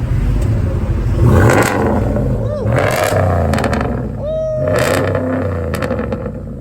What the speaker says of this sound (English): That thing sounds mean. It's a truck